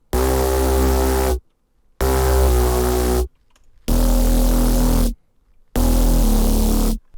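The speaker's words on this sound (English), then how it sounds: "Then we have this bass." A deep synth bass preset from a Vital soundbank plays four loud, sustained notes, each about a second long and separated by short silences.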